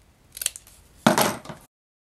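Scissors trim paper for a craft box in two quick snips: a light first cut, then a louder, crisper second cut, close and isolated.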